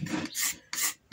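A hand rasp scrapes across a Winchester rifle's wooden stock during restoration, three long rough strokes in steady rhythm, close up and alone.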